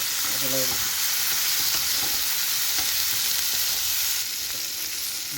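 Spices for chana chaat sautéing in a hot pan, a loud continuous sizzle and fry with faint stirring scrapes, close up.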